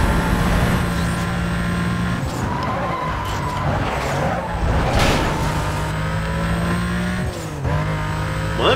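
Racing cars in the Need For Speed Most Wanted video game roar loudly with revving engines, tire skids and cars sweeping past, a dense, continuous mix throughout.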